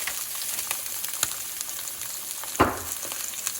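Walleye fillet frying in a pan with butter, a steady close sizzle and crackle throughout, with one sharper spit or pan knock near the end.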